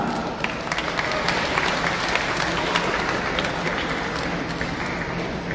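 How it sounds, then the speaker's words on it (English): An audience at a Virgin Islands national science fair awards event breaks into sustained applause, loud dense clapping from a large crowd holding steady throughout. "Let's give them a round of applause."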